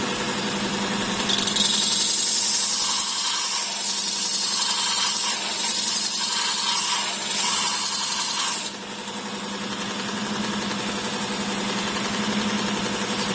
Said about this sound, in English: I'm going to switch it on and start the rough shaping.